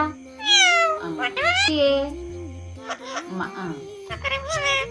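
A parrot mimics a cat's meow in several rising, wavering calls, mixed in with a person talking and coaxing nearby.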